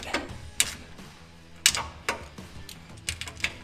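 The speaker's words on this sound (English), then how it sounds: "I'm just going to use a wobble socket. Just to make it a little easier to get into it." Ratchet wrench with a wobble socket tightening bolts on a Willys Jeep rear crossmember, giving short bursts of close, sharp mechanical clicking separated by brief pauses.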